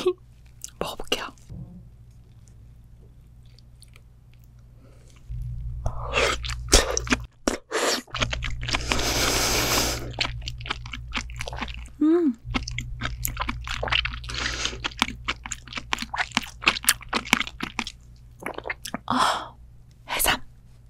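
Prepared sea squirt eaten up close in a seafood mukbang, with wet crunchy chewing and slurping bursts that come and go for about fifteen seconds, plus occasional soft breathy whispers between bites.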